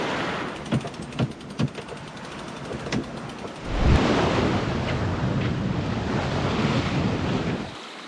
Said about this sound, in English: The waves are pretty built up.